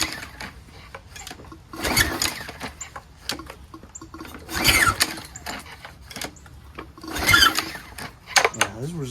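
Three strained pulls on the recoil starter cord of a Troy-Bilt pressure washer with a broken pump, each a short rasping whir that meets resistance, close by, with someone speaking briefly in between.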